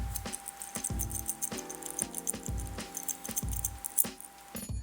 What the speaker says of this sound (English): taking it on and off, my goodness me, it sounds like something out of a cereal box from the 1980s